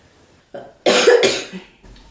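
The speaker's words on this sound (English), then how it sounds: "It's like a dry cough" Two harsh, dry coughs from a woman doing a glittery purple and pink makeup look. The close, loud bursts come one after the other, with quieter shuffling before and after.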